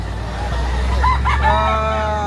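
A bullstag rooster crows once in Lipa, Batangas, a long, wavering call rising and falling over a low rumble of engine noise in the background.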